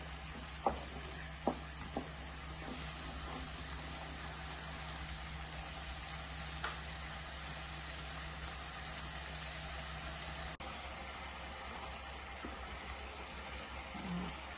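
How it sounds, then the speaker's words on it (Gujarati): Tomato puree sautés in ghee and oil in a pan, a steady low sizzle running throughout, with a few faint spoon taps near the start. "એક ટમેટાની પ્યુરી કરેલી છે એ બરાબર સાંકળી લઈશું જ્યાં સુધી એમાંથી ઘી તેલ છૂટું ના પડે"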